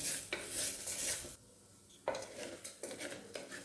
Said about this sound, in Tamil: கொஞ்சம் நேரம் அந்த ஆயிலில் நல்லா ஃப்ரை பண்ணணும்